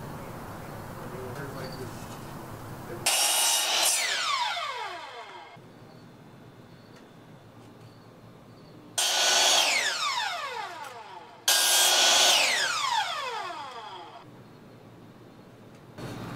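A power tool cuts a wooden piece for a curved joist in three loud bursts, each winding up and spinning down with a whining pitch, separated by quieter pauses with a voice in the background.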